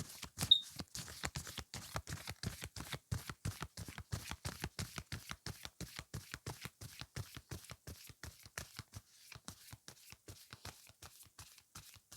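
Cards are shuffled in a steady run of soft, quick flicks and taps, quiet and close, with no voices.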